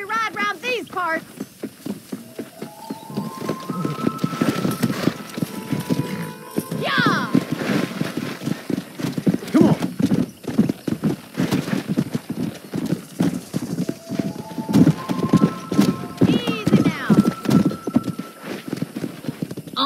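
Horse hooves clip-clop steadily in Red Dead Redemption, running on an Xbox 360 emulator, with occasional whinnies over a bed of ambient game noise, while people talk over the riding throughout.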